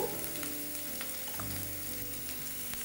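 Vegetables for vegetable 65 stir-fry in a hot pan, giving a continuous dense sizzle up close with a faint low hum beneath.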